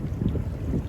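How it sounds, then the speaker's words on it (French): Steady wind buffets the microphone outdoors on a cool day, a dense low rumble that fills the whole moment without letting up. "Il y a un petit peu de vent"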